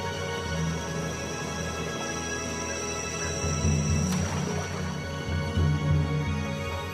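A distant call from a Borneo forest elephant deep in rainforest, a low rumbling roar rising and swelling within a dense bed of steady insect drone and forest ambience, faint and far off with no voices.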